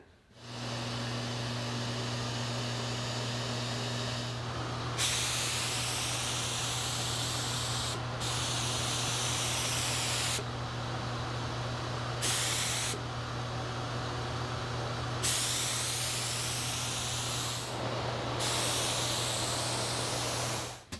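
An HVLP spray gun with a 1.8 tip spraying paint onto a frame, in long steady hissing bursts separated by short pauses, close and loud over a constant low hum.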